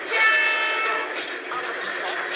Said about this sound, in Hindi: और एक और हॉर्न लगा दिया हमने।